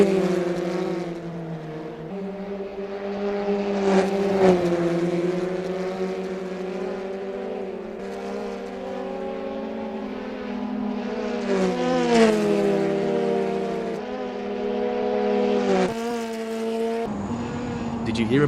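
The Opel GT Gr4 2000 TF73 race car engine in Assetto Corsa, on the Prague track, drones loudly and steadily in fourth gear, its pitch rising and dipping with the throttle, while a voice talks over it.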